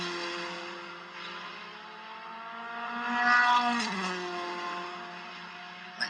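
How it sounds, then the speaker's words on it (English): Race cars at Brands Hatch heading into Paddock Hill bend during a circuit race, engines droning steadily at a distance with one car swelling louder as it passes, then fading. "Next group of cars, Stuart Wiltshire in the middle of it"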